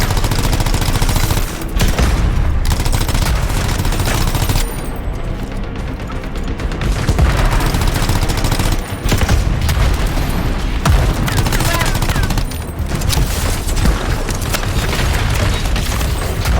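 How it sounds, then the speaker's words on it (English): Rapid machine-gun fire in the video game Anthem, loud dense bursts with booming impacts and explosions filling the whole stretch, broken by a couple of short pauses. "Dang, this machine gun has a crazy rate of fire."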